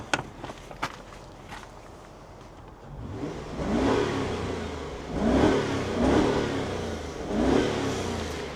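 2005 Jaguar XJ Sport with a 4.2 V8 gets several rising throttle blips in a row, each swelling and falling back, moderately loud and close after a few sharp clicks at the start.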